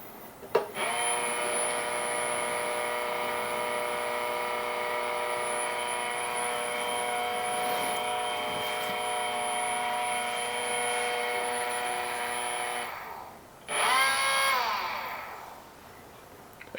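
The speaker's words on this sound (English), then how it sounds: "it's going to begin running the motor in reverse again for the entire duration of the adjustment setting" The motor of a Wendougee Milo 64mm coffee grinder runs in reverse during grind adjustment with a steady, high-pitched whine. It stops after about twelve seconds, then a short whirring bump follows.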